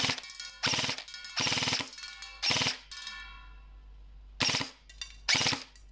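A VFC M4 Avalon Calibur CQC AEG DX airsoft rifle fires full auto at a large metal pan, giving five sharp, loud bursts separated by short gaps, with a metallic ring lingering after one burst.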